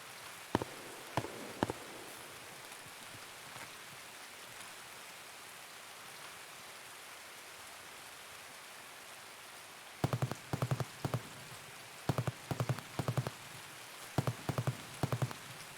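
Steady rain falls in the shooter game Escape from Tarkov, a soft continuous wash throughout, joined in the second half by bursts of sharp clicking footsteps or movement noises over the patter.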